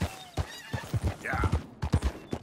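A horse whinnies in the Red Dead Redemption 2 video game over a run of clip-clopping hooves, with brief bursts of voice mixed in close by.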